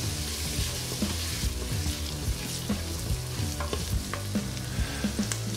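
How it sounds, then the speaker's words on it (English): Onions saute in an Instant Pot while being stirred, a constant close frying sizzle with irregular scraping and clicking of the spoon against the pot throughout, with no speech. "we will continue to saute this until the onions become transparent"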